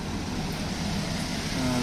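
Street traffic passing outside a coffee merchant's shop, a steady broadband rumble of car noise filling the short stretch without a break.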